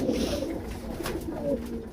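Pigeons at a pigeon farm coo in low, repeated murmuring calls that overlap steadily, close by and moderately loud with no talk.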